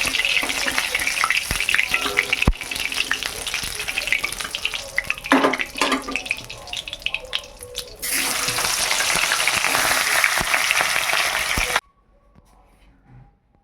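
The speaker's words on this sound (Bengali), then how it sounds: "তাই মাছগুলোকে একটু হালকা করে ভেজে নিয়েছি" Fish shallow-frying lightly in oil in a village kitchen pan, a loud continuous sizzle with spatters and stirring, running steadily before cutting off abruptly to near silence at the end.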